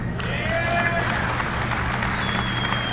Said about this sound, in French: Voilà des applaudissements évidemment pour ce qui n'était vraiment pas une surprise, Tegra 4